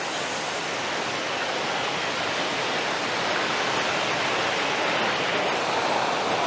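Water tumbling down a series of rock steps in a landscape setting, a steady broadband rush that stays loud and even throughout with no voices.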